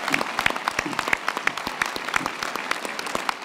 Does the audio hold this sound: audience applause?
yes